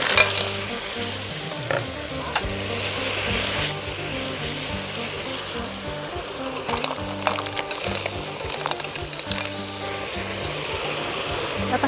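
Mussels stir-frying with Thai basil and aromatics in a hot pan, with a steady loud sizzle throughout and scraping, stirring strokes from a utensil.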